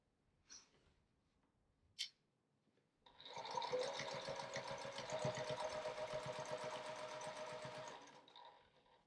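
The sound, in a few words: sewing machine quilting a quilt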